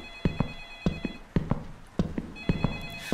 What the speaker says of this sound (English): The phone, oh my god.